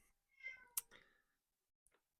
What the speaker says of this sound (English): sorry if you can hear the cat.